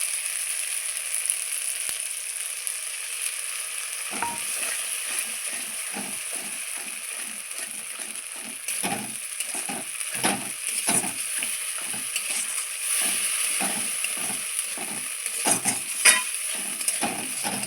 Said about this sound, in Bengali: কাজু বাটা দিয়ে অনবরত নাড়তে হবে নাহলে কাজু নিচে লেগে যায়